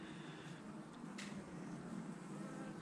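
Honeybees buzzing at an open hive during a colony inspection, a faint, steady drone with occasional brief nearer passes and no talk.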